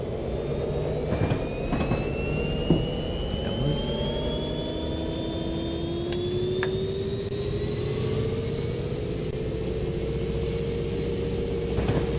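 Jet airplane passing overhead, a steady broad roar with a slowly rising whine that swells and holds across the whole stretch, heard over a train-cab rumble of an F40PHL-2 locomotive running between Miami and West Palm Beach.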